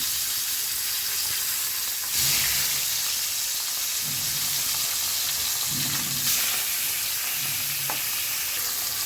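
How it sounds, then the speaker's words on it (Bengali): Pabda fish fry in hot oil in a pan, a loud continuous hissing sizzle close up, with occasional soft stirring scrapes and spatters, no speech. "মাছ ভুনার ক্ষেত্রে আমি একটু ভেজে নিই"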